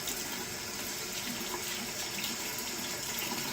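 A paintbrush rinsed under a running tap: a steady, close rush of faucet water splashing over bristles into a sink, uninterrupted for a few seconds with no talking.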